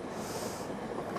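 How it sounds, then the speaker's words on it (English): A train rumbles steadily nearby, with low continuous rolling noise and a faint high squeal throughout. "Or is it a train? I reckon that's the one we're waiting for."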